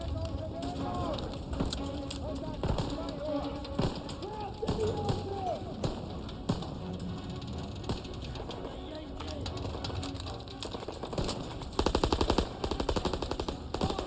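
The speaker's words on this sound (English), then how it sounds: "World War I machine gun, but it's entirely possible you could have seen an MG-15 on an armored train" An MG-15 machine gun in Call of Duty WW2 fires in bursts through a Paris mission, with louder rapid rattling near the end, heard under almost continuous talk and busy game sounds.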